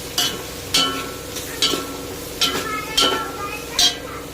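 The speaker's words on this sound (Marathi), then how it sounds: "टोमॅटो टाकून घ्यायचं आणि तोही मऊ होईपर्यंत चांगलं शिजवून घ्यायचं।" Tomatoes cook in a pan for vegetable pulao while a spoon stirs them, scraping the pan in regular strokes about every second over a soft sizzle, close and clear.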